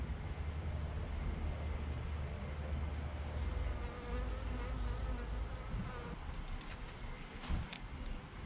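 Bees hum around an open hive during an inspection, a dense steady buzzing close by with occasional louder passes, no voices.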